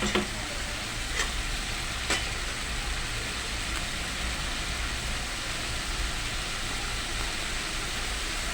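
Spices being sautéed (kashano) in a pan sizzle steadily and loudly throughout, with a few faint clinks near the start and no talking.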